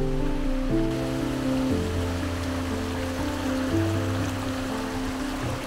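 Small creek flowing along a trail near Lake Louise, a steady broadband rush of running water, close and continuous, with a low tonal hum layered underneath.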